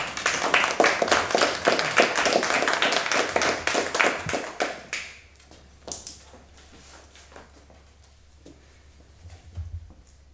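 At a student debate competition, an audience claps in a crisp, fast flurry that stays strong for several seconds, then abruptly dies away, leaving a few scattered claps and faint room noise.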